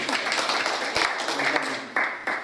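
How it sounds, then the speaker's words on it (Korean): Applause at a Korean community association board meeting approving a motion, scattered hand clapping from a small group of people in a room, with some voices mixed in. "그럼 박수로 통과시킵니다."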